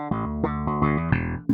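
A bass guitar through a spectrum filter gives a bright, buzzy synth-bass tone, playing a short sequence of sustained notes with rich harmonics, changing pitch every fraction of a second, ending in an abrupt click.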